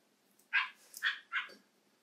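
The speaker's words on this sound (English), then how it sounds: "now I'm gonna do a medium bark" A recorded dog bark played at medium volume during training: three short, sharp barks in quick succession, moderately loud and close, with no talking over them.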